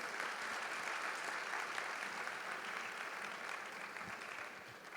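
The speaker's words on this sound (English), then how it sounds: "Bigger applause, bigger applause." Conference audience at a startup investment event in Mumbai gives dense, even applause that stays steady throughout, heard somewhat distant and quiet.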